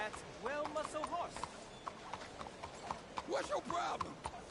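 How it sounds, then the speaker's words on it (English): Horse hooves clip-clopping in Red Dead Redemption 2, a steady walking rhythm under game characters talking, with the horse snorting at times, moderately close. "That's well-muscle horse."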